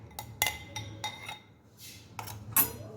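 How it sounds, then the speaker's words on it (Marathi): Mango pulp is scooped into a wok (kadhai) with a metal spoon, giving several sharp clinks and scrapes against the pan, separated by short pauses and soft wet rubbing. "आता एका कढईमध्ये आपण हा सगळा गर काढून घेऊया"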